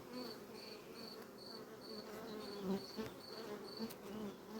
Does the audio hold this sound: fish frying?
no